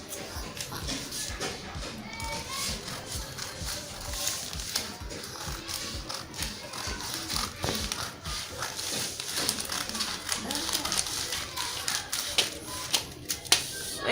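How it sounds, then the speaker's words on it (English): Scissors snip steadily through two layers of dress fabric, front and back pieces cut together, giving a dense run of close, crisp cutting clicks and rustles throughout with no talking. "I'm cutting both front and the back together."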